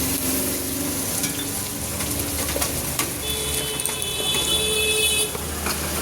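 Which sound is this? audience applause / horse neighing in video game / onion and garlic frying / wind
onion and garlic frying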